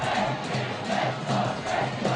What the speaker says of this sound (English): You can see the Antonian cheering squad heating up the Askaria Stadium.